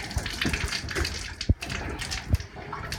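Hot water runs from a cabin faucet to bleed air from the lines, a steady broadband gush of flowing water with a few brief clunks and sputters from the plumbing, close and moderately loud.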